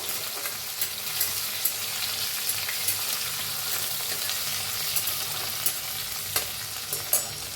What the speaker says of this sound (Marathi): चेचलेला लसूण चेचलेली मिरची थोडंसं हिंग पत्ता हलवून भाजून घेऊयाला